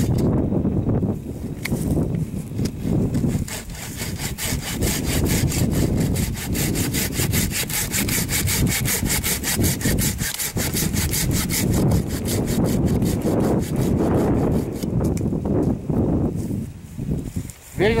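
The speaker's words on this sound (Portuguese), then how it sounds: "Com serrote, por gentileza. Vamos limpar, tirar o toco." A hand saw cuts a plum tree branch stub outdoors during pruning, with a close, continuous, rhythmic rasping of rapid strokes that lasts throughout and pauses only briefly near the end.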